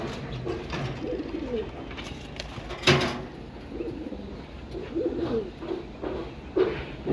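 Pigeons in a home loft cooing close by, soft repeated throaty coos overlapping at a gentle irregular rhythm, with one sharp clack midway and no talking.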